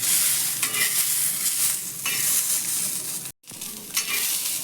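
Fresh pigeon pea grains dry-roasting in a hot pan give a steady, close crackling sizzle with stirring scrapes and rustles throughout, broken by one brief silent gap near the end.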